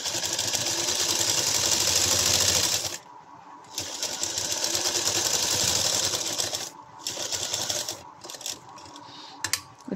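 A sewing machine stitches a designer sleeve close beside buckram, whirring loudly in sustained runs broken by brief stops and a few short clicking stitches near the end.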